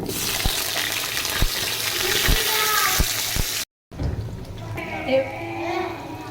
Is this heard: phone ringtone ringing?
no